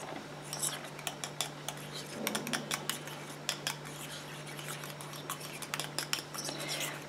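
A utensil stirring homemade night cream ingredients in a small container, with rapid light clinks and scrapes running on without pause.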